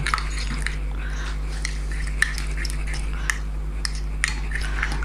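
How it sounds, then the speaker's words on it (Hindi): Batter for grilled turkey wings being mixed in a bowl: quiet wet squishing and light clinks of a utensil against the bowl, with a few sharper taps, over a steady low electrical hum. "मैं अच्छी तरह मिक्स कर लेता हूँ"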